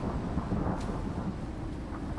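A flash storm in the survival video game Icarus rumbles with low, steady thunder under rain-like hiss and wind, continuous and fairly loud, with no talking.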